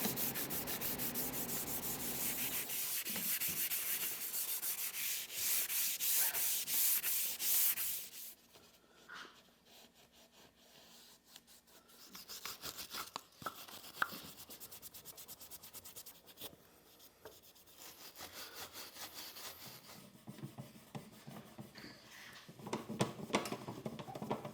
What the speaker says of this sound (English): I'll use the Scotch-Brite on the bare metal surfaces, and then just a rag, and maybe the brass brush on some of the painted surfaces